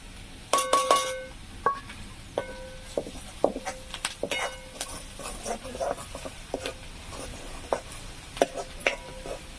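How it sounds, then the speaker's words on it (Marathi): Spices are tipped into frying onion and stirred, giving scattered scrapes and light clinks of a utensil against the pan over a faint sizzle, with no one talking. "तर याच्यामध्ये मी आता हे मसाले टाकून देते"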